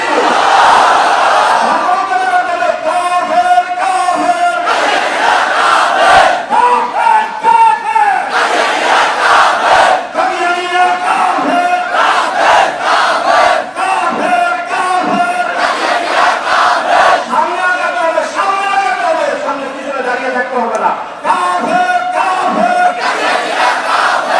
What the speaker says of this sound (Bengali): দাঁড়িয়ে তাকবীর দিতে হবে, বসে তাকবীর দিতে হবে, আল্লাহু তাকবীর।